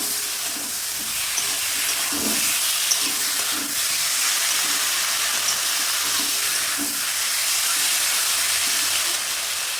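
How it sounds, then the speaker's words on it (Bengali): Ginger-garlic and onion paste sizzles in hot oil for a Bengali prawn and potato curry, a steady close hiss broken by soft, irregular thumps from stirring throughout. "আদা রসুন বাটা, পেঁয়াজ বাটা দিয়ে দিলাম, দিয়ে নেড়ে দিলাম"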